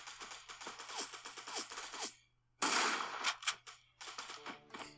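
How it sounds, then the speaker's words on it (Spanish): Rapid bursts of gunfire from the video game Fortcraft, sharp close shots in quick clusters separated by a short pause, then a louder dense volley followed by more rattling shots. "que me están disparando, que me están disparando"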